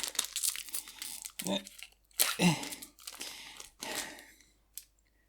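Crinkly plastic wrapper of a Kaldheim trading card booster pack crackles and tears in several bursts, close and loud, with a brief voice heard in between.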